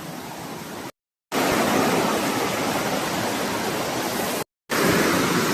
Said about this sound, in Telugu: ఇదో ఒక వాటర్ పారుతున్నాయి చూడండి